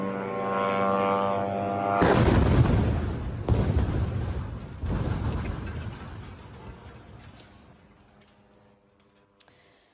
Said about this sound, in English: shot this video of the moment the building exploded